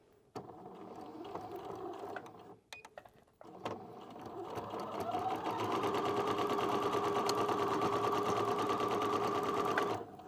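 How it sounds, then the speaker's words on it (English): A domestic sewing machine stitching fabric for a matching scarf: a short burst of stitching, a brief pause with a few clicks, then a long even run of rapid mechanical whirring, close and moderately loud. "Then we're going to sew on the other side the same way."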